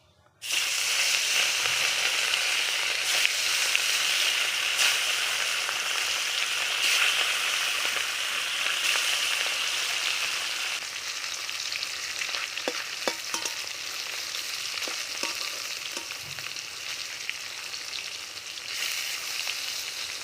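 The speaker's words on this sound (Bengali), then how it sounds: "এবার আমি নুন হলুদ মাখানো মাছগুলো ভেজে নেব।" Salt-and-turmeric-coated fish, rohu for a fish curry, frying in hot oil in a kadai: a loud, steady, crackling sizzle that runs unbroken throughout, easing slightly partway through, with a few sharp pops and no talking.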